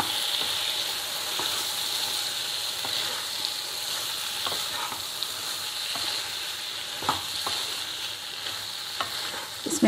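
Chickpeas fry in a masala of onion, green chili, ginger and garlic for a Kerala-style curry, giving a steady close sizzle broken by the scrapes and clicks of stirring, with no talk.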